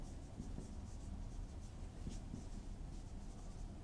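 Quiet pen or marker strokes scratch out equations for a heat conduction lesson, a soft continuous scribbling with small taps, close but low in level with no talk.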